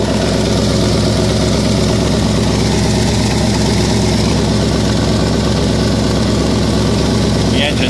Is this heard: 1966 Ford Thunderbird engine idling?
yes